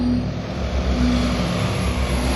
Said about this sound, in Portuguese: Enquanto esse curioso avião voava para uma demonstração na estação naval de Floyd Bennett